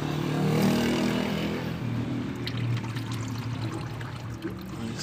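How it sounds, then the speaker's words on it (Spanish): Motor oil from a Nissan Versa pours out of the drain into a container, a soft steady liquid trickle close by, fading slightly as it continues over faint background hum. "lo quitamos y acercamos un poquito el recipiente para que nos caiga el aceite"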